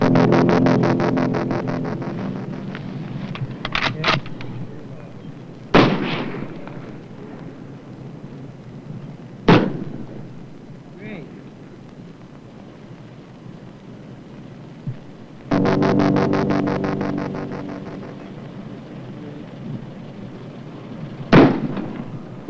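Shells are fired through Goodyear flat-proofed pneumatic tires in a test series: four loud, sharp gunshot cracks spaced several seconds apart over a steady mechanical hum that drops away in between.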